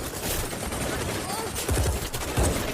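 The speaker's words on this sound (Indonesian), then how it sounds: "Kemudian baku tembak pun terjadi." Gunfire in a shootout scene from an Indian action film, heard as rapid bursts of shots in quick succession over a dense, noisy background, with a voice talking over the action.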